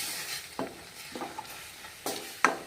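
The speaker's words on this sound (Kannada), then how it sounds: "ಇವಾಗ ನಾವು ಅನ್ನ ಮಿಕ್ಸ್ ಮಾಡ್ಕೊಳ್ಳೋಣ" Cooked rice stirred into spiced masala with oil floating on it in a pan, heard as soft, close scraping strokes and light sizzling at a slow, uneven pace.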